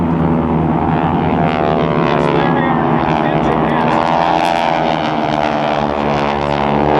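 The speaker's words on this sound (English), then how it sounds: "Steve Saunders and Tom Daly all pitch up and get ready to land, extending the landing gear as they line up for landing in formation" GEICO Skytypers propeller planes flying in formation at a military open house airshow, producing a loud, continuous droning engine roar with shifting pitch as they pass overhead to line up for landing.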